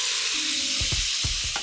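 Couscous and stock go into frying vegetables with cherry tomatoes, giving a loud steady sizzle broken by a few quick low splashes and stirs near the end.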